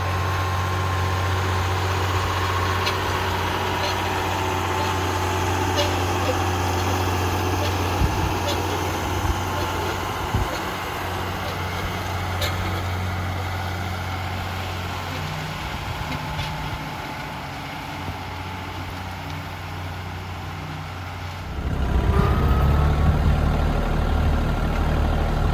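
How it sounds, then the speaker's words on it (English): Antique RK tractors idle at a tractor show: a steady low engine rumble with a soft mechanical chug runs throughout, swelling louder for the last few seconds. "here's some of the tractors they had set up there, just to display the Rk tractors"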